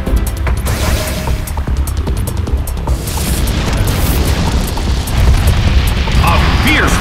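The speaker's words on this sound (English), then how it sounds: "A fierce blow. Such amazing power. A hard hit from Body Slam." Body Slam attack landing in a Pokémon battle game as Houndoom fights, a heavy booming crash with rumbling impact noise, loud and dense, followed by a sustained roar of game effects.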